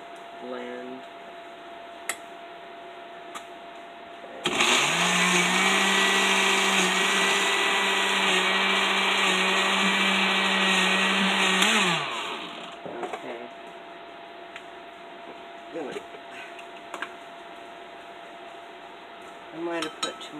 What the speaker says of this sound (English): I might have put too much in at one time for my little blender.